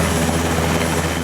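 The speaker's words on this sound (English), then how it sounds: "Australia's 47 Taipan helicopters will be ditched." An Australian military Taipan helicopter gives a loud, continuous rotor and engine drone, steady and close, with no talking.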